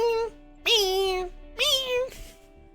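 A person mimics a cat, voicing three drawn-out, whiny meows in a row, each rising then falling, loud and close with brief pauses between them.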